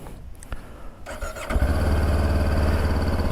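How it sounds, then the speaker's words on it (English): A 2024 Kawasaki Ninja 500 KRT motorcycle fires up close by: a quiet moment and a few clicks, then the engine catches with a sudden loud burst and settles into a steady, rumbling idle. "So let's turn the bike on."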